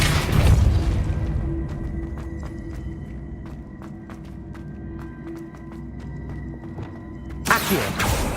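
A Depulso spell cast in Hogwarts Legacy lands as a heavy boom, followed by a low rumbling hum with faint ticking, then a second sharp burst near the end.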